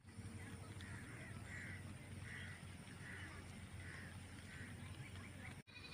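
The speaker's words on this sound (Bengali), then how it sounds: "পাখি ডাকছে, দেখো শুনতে পাচ্ছ?" Crows cawing in a repeated series of harsh calls over steady heavy rain, with other birds calling somewhere in the background; the caws sound moderately distant and carry through the constant downpour.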